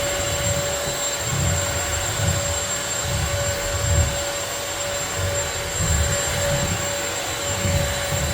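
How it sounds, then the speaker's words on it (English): A Bissell Crosswave floor cleaner runs during a living room deep clean, a loud steady motor whine and airflow hiss with a pulsing low rumble as it is pushed back and forth, no talking. "the other option, where you don't have to vacuum or sweep, is to use a Bissell Crosswave"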